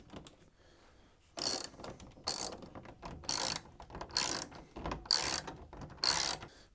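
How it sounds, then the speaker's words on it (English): A 7mm socket set ratchet undoes the screws at the back of a Hoover tumble dryer, six separate bursts of rapid clicking spaced about a second apart, close and crisp against a quiet background. "undoing the screws at the back that hold it in place, using your 7mm socket set"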